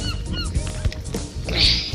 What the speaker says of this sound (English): Look at all of the ducks.